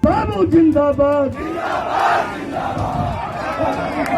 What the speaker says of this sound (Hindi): वीडियो में देखा जा सकता है कि मंच पर नारेबाजी हो रही थी, भीड़ भी जमा थी